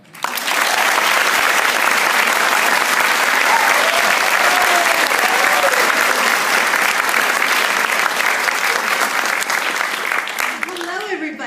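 Sustained, loud applause from an audience welcoming a Walt Disney Company artist and historian onstage, steady for about ten seconds before tapering off at the end.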